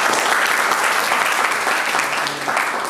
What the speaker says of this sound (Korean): 큰 박수로 이덕준 대표님 모시겠습니다